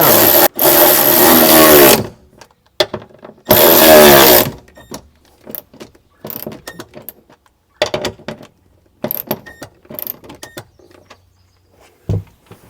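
Two loud bursts of a power driver whir up close as bolts are run down on a MOLLE rack mount inside a 2021 Ford Bronco, followed by scattered clicks and handling noises.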